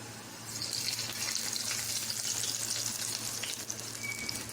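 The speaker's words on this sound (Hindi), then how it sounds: "इसमें यही तड़का डलता होता है।" Garlic tadka sizzling steadily as it is poured into bottle gourd raita, a continuous hissing fry close by with a low steady hum underneath and no talking.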